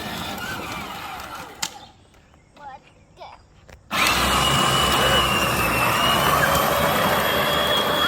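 An upgraded 20V Jeep Power Wheels ride-on toy with Stage V gears, its electric motor whining steadily and loudly close by once it kicks into gear after a quieter stretch.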